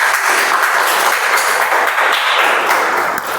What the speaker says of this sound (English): Thank you for the louder clap